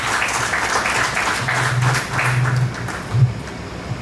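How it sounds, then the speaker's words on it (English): Applause from an audience at an annual general body meeting, a steady wash of clapping lasting several seconds at moderate volume, with a few louder bursts near the end. "A big clap for him."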